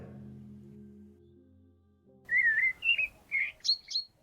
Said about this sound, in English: You can hear the morning bird song as you open your eyes